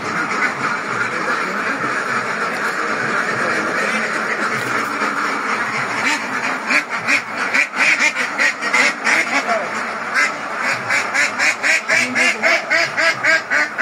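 Ducks on a farm, being given cholera vaccine, quack loudly and continuously in a close, dense chorus that grows into rapid rhythmic quacking, while people talk underneath.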